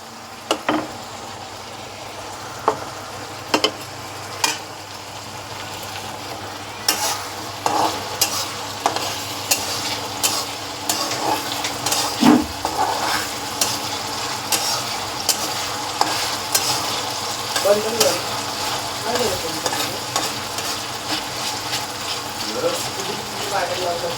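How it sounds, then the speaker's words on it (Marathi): Onion, tomato and masala paste fry in a pan for a spicy prawn curry, with a steady sizzle and repeated close spatula scrapes and stirring knocks throughout. "कांदा आणि टॅमॅटो थोडं मुरून घ्यायचं तो थोडंसं लालसर झाला का मग त्याच्यात वाटप टाकून द्यायचं आहे"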